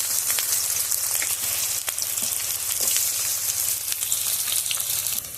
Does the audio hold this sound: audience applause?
no